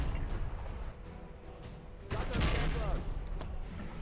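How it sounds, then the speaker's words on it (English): Explosions and artillery fire in a tank video game, a dense burst of crackling blasts with a heavier boom midway, a voice talking faintly underneath. "there's a lot of explosions going on right now"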